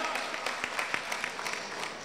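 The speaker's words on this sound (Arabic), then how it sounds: "تصفيق ترى يستاهل" Wedding guests clap at a celebration in a palace hall, a dense, moderately loud burst of applause with a chanting voice faintly mixed in.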